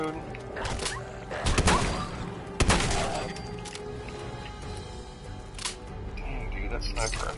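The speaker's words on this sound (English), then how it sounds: "that sniper rifle about got me killed" Sniper rifle fire in a video game, a few sharp, loud cracks spaced apart amid other in-game shooting, with people talking throughout.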